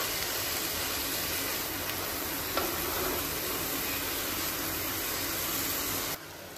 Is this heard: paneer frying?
yes